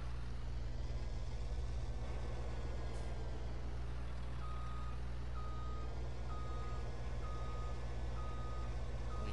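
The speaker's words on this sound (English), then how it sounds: "Let's move the truck around here." A truck in Farming Simulator 22 reverses with evenly spaced backup beeps over a steady low diesel engine rumble, no talking.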